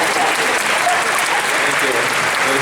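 An audience at a graduation-style ceremony claps loudly and continuously, a dense wash of close applause with no gaps across the whole stretch.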